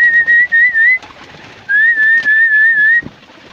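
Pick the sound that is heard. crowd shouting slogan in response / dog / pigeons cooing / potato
pigeons cooing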